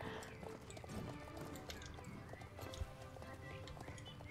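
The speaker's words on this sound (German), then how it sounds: "Da gehen ja die ganzen Pferde mit ihr durch." Horses galloping in the Star Stable video game, faint rhythmic hoofbeats with occasional whinnies under game sounds and a soft thump.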